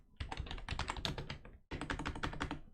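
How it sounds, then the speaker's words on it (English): Fast, continuous typing on a computer keyboard in a workshop, heard close up as a dense run of key clicks split by one brief pause, with no talking. "So I'm going to type it in chat."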